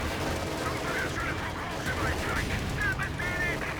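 Tank gun fire in Company of Heroes 2 on the Rails and Metal map during a battle with a Panther, several sharp bursts and blasts over a dense layer of game combat noise.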